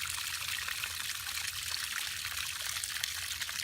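Water pours out steadily from a drained emergency water storage tank of about 300 gallons, a continuous close splashing flow flooding the surrounding ground in cold weather.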